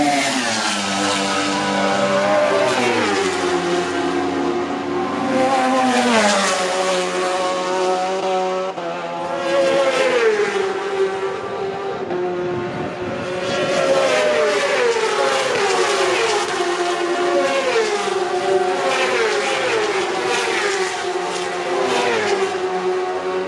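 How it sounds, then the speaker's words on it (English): Superbike motorcycles race past at the North West 200 road races, loud high-revving engines swelling and fading as several machines pass in turn, with rising and falling pitch. "That's the superbikes."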